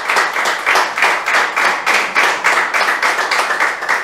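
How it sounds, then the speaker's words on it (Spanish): Church congregation clapping in unison during a sermon, a loud rhythmic beat of claps, roughly two per second, continuing for about four seconds. "¿Quién le da un aplauso al Señor?"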